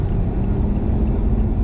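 BMW i8 cruising on a road at about 72, a loud steady low rumble of road and engine noise heard from inside the car, continuous with no speech.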